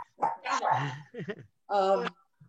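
Several dogs bark in short, sharp bursts inside a home, loud and close, with three separate outbursts and brief pauses between them; a person speaks faintly around them.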